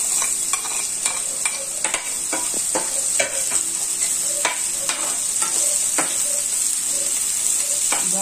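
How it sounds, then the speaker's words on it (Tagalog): Garlic and onion sautéing together in oil in a pan, a continuous hissing sizzle broken by frequent sharp spatula taps and scrapes, close and fairly loud, with no voices. "So, magigisa na tayo ng bawang sibuyas."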